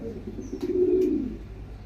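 A male pigeon cooing to females during courtship gives a single low, close, soft rolling coo lasting under a second amid quiet background.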